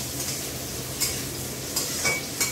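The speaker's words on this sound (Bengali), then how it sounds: "ওইদিকে ক্যাপসিকাম ভাজা হচ্ছে" Capsicum sizzles gently in a pan while fried rice is being made, a soft steady frying hiss with a few brief scraping stirs, fairly quiet and without talk.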